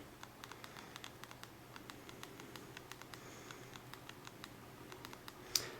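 Fingers tap a phone's touchscreen keyboard in a quick, uneven run of faint, close ticks over a quiet background, with one sharper click at the end.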